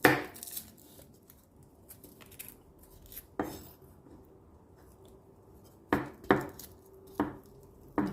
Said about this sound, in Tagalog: Ating hiwain ang ating bawang.